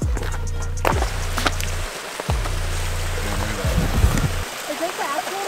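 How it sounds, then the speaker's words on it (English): Rainwater pouring off a house roof through a leak into a living room: a loud continuous rushing splash with low rumbling bursts, close by, while people talk over it. "More water flowing off my roof."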